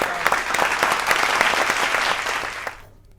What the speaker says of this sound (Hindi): जो तालियों की गूंज आपने सुनी